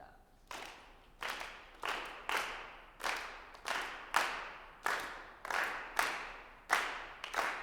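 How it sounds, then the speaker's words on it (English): A choir claps a steady rhythm at rehearsal, about eleven sharp, evenly spaced claps at a moderate pace, each ringing briefly in a reverberant room. "We're going to clap 4 bars of the rhythm"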